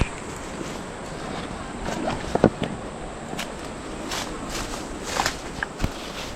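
Footsteps crunching and scuffing over rocks on a steep downhill path, irregular steps up close with wind rushing across the microphone.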